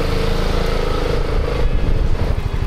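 A BMW C400 GT scooter engine, 2024 model, revs steadily with a loud, continuous low drone and rough harmonic rumble, held close and constant for under three seconds without speech.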